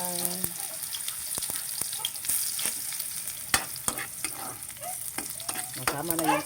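Ginger sizzles and fries in hot oil for a squid dish, with steady crackling, sharp spoon-and-pan stirring clicks, and a brief voice at the start and end.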